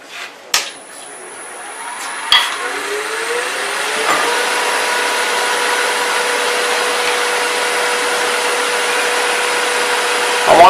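A wood lathe spins steadily with a continuous hum and whine while a gouge rides the bevel and takes a light, smooth cut. Faint knocks come at the start.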